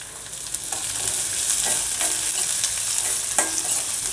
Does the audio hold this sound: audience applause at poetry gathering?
no